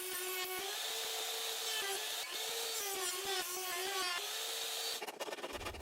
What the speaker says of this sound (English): So I drilled an opening in the pocket,